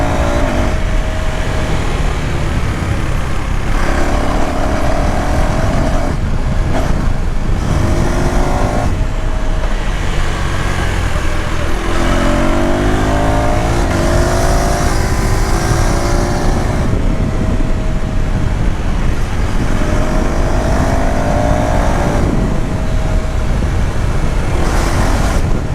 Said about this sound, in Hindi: up shifting gears without pressing the clutch